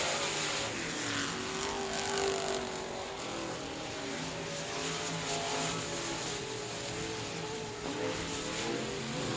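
Race cars at South Texas Speedway, a small-track field of seven cars, roaring at full throttle under green-flag racing with a continuous loud, droning engine wash over track noise.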